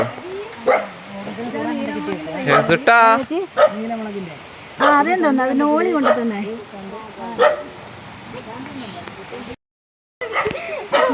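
A dog barks and yips repeatedly up close, mixed with whining, while people talk over it; the sound cuts out briefly near the end.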